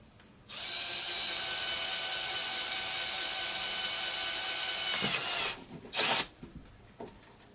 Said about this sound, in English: the trick to drilling holes in plexi is to not push down